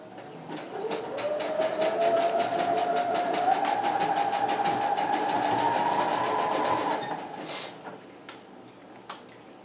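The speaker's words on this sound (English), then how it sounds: "you're just going to sew along the edge, stretching the elastic gently" A sewing machine sews elastic onto the edge of spandex fabric for a leotard, giving a steady rapid stitching hum whose pitch rises slightly as it speeds up and then stops, with a few faint clicks afterward.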